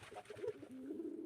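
Domestic pigeons coo softly and repeatedly while pecking at rice, low rolling calls close by with no talk over them.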